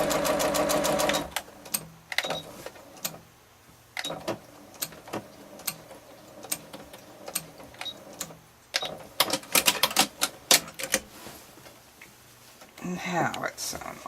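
A sewing machine stitching ric-rac trim onto a quilt runs in short rhythmic bursts of rapid needle clatter, stopping and starting, close and clear, with a person talking between runs.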